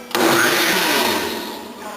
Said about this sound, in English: So I got my blender on, and I'm going to pulse it for a minute.